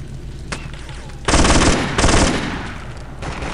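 Loud machine gun fire in the video game Black Ops 2: a sharp single shot, then two dense bursts of rapid automatic fire close up, trailing off into background noise.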